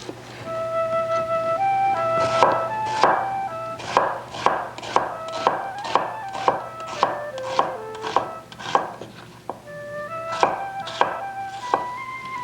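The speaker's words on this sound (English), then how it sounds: "Cut 2 medium-sized onions into thin half-moons." A knife slices two medium onions into thin half-moons on a cutting board. The close, sharp chops come in a quick regular rhythm, pausing briefly before another short run.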